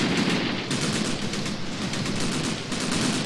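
Sustained automatic fire from armored personnel carriers' machine guns in a Graviteam Tactics Afghanistan battle, a dense, continuous rattling roar of rapid bursts that stays loud throughout with no voices.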